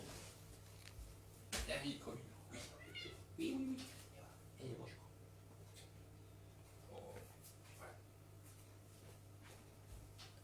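A cat yowls loudly and drawn-out indoors, then fainter meows trail off against a low steady hum.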